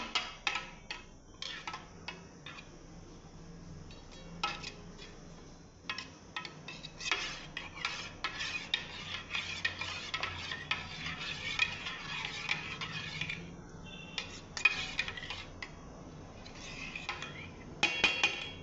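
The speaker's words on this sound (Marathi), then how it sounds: "मी वेलची पावडर टाकत आहे ती चांगली ढवळून घेते मी" Cardamom powder being stirred into a bread caramel pudding mixture, with dense, rapid spoon clinks and scrapes against the bowl in irregular bursts and brief pauses, close and continuous throughout.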